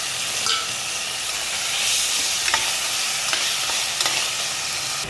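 Chopped tomatoes sauté in a pan over softened onions while a crab gravy is being made, giving a steady, moderately loud sizzle with occasional stirring clicks and no talking.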